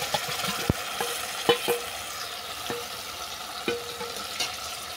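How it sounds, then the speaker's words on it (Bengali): Grated tomato added to fried whole spices in a pan: a steady sizzle under repeated sharp spatula taps and scrapes against the pan, close and without speech. "ফোড়ন ভালো করে ভেজে নেওয়ার পর দিয়ে দিলাম গ্রেট করা টমেটো"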